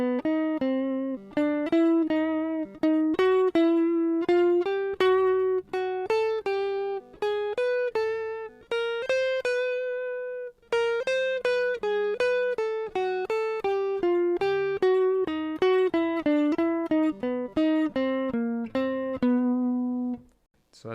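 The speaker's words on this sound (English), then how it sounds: "So going up B Phrygian Dominant like this, it would sound like this." A B Phrygian dominant scale exercise played one clear pitched note at a time, a steady run that climbs and then comes back down, heard alone without talk.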